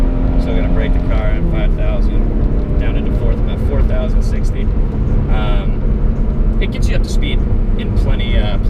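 A 2017 Subaru BRZ's engine and exhaust drone loudly and steadily from inside the car as it brakes and downshifts, with someone talking over the engine.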